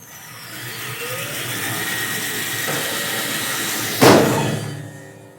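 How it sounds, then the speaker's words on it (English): Band saw blade running with a steady loud whine and rushing hum, then a sudden sharp burst as a glove is thrown onto it and the machine brakes, followed by the sound quickly fading to near silence. "I will run the blade and I'm going to throw this glove in to show you just how quick the machine"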